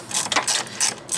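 A ratchet turning a T20 socket on a Cadillac Escalade during an oil change, giving a few quick close clicking bursts with short pauses between them.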